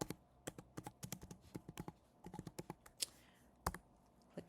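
Keys clatter on a computer keyboard in quick irregular bursts of close, crisp clicks, heard alone without talk.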